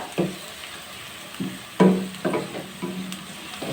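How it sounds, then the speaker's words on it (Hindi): Green chilies, garlic, onion and cumin frying in a pan, heard as a low sizzle broken by several stirring scrapes and clatters, with no voices present. "बहुत अच्छे से जो है फ्राई हो गए हैं हरी मिर्चें, लहसुन और प्याज, जीरा।"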